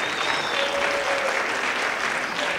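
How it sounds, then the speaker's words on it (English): An audience at an El Sistema Somerville youth music event gives a sustained round of applause to the administrative team, a dense, even wash of clapping at steady loudness throughout. "I also want to give a big round of applause for our administrative team here"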